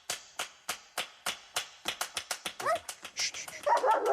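A leashed dog at Puy du Fou whimpers and yips in a rapid series of short, close, sharp cries, about two dozen in four seconds, with no talk.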